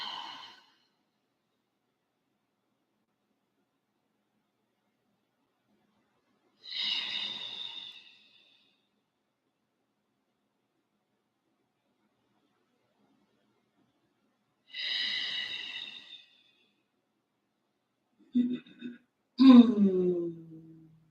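Slow, deep breaths during a morning yoga session, a few long airy exhales spaced several seconds apart in a quiet room, ending with a rougher sigh-like breath.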